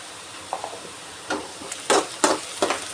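Onions sautéing in oil for a brinjal curry, stirred with a spoon in a pan: a soft steady sizzle broken by a few scraping stir strokes that get louder toward the end.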